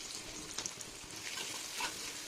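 Garlic fries in a pan with fish head, giving a soft, steady sizzle with faint crackles and the scrape of stirring.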